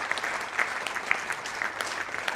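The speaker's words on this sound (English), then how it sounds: "let's applaud Harsh and welcome him on stage" An audience at an award ceremony claps steadily for a couple of seconds, a dense wash of many hands at moderate distance.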